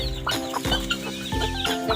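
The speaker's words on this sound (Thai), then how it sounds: "เสียงเป็ดเสียงไก่เนาะ" Chickens cluck and call close by around a rural Lao farm, several short repeated calls in quick succession, with no talk.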